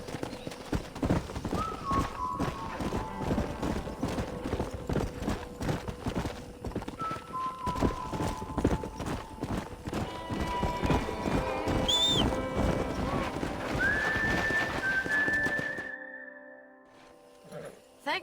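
Hoofbeats of a stallion clip-clopping in the Red Dead Redemption game, a steady rhythmic patter under music and a voice, with a brief whinny partway through before the sound drops away near the end.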